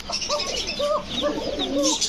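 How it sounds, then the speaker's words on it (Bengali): Thin-voiced pigeons coo close by at a pigeon sale, a series of soft rolling calls repeating every half second or so over a faint background hum. "একদম চিকন কণ্ঠের কবুতর"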